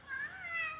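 A cat gives a single short, faint meow with a gliding pitch, close by against quiet room background.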